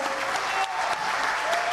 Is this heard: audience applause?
yes